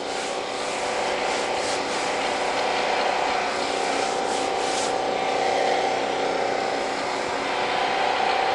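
A wood planer runs steadily on a shelf board, giving a loud, constant rushing, grinding roar that lasts throughout without breaks.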